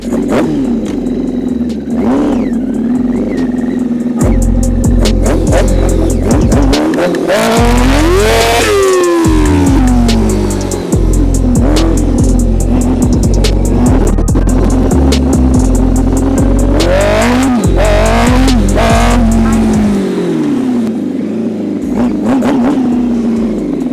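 A Yamaha Raptor quad with a swapped-in R6 engine, whose brakes are failing, is ridden hard. The engine screams through repeated high revs and shifts, and the roar is loud and close for the whole stretch.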